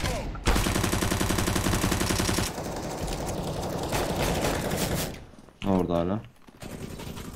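Rapid video game gunfire from a Desert Eagle pistol and other weapons crackles loud and close in dense bursts, then thins out, while a player speaks briefly over it.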